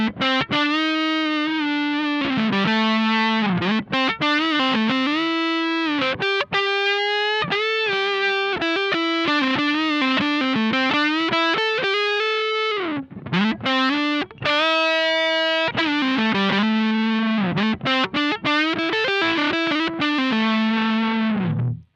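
Distorted electric guitar through a Love Pedal English Woman overdrive pedal playing a bluesy melodic line, thick and gritty with sustained notes and bends, loud and continuous with no talking.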